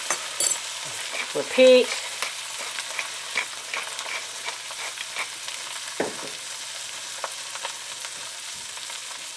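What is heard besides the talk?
meat searing in a pan for a roast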